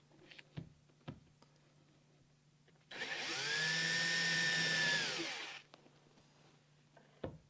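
Power drill with a bit boring into a workpiece during an epoxy repair job, a single steady whirring run of about two and a half seconds, loud and close, with a few faint knocks before and after.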